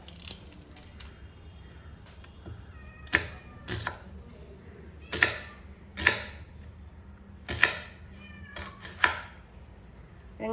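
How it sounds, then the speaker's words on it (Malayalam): A knife chops onion finely on a board, each cut a sharp, close knock arriving singly or in quick pairs about once a second over a faint background. "ഇനി നമുക്ക് സബോളയും അതുപോലെ തന്നെ ചെറുതായിട്ട് അരിഞ്ഞെടുക്കാം"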